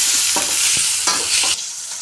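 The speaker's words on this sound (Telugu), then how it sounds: "ఎర్రగడ్డలు సాల్ట్ కొంచెం కరేపాకు కొంచెం ఇప్పుడు వేయించుకున్నాం" Onions frying with salt and curry leaves in a pan, a loud close sizzle punctuated by several sharp stirring scrapes, then the hiss drops off near the end; no talking.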